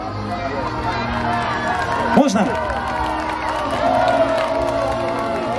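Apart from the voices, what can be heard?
crowd cheering and applauding at military history festival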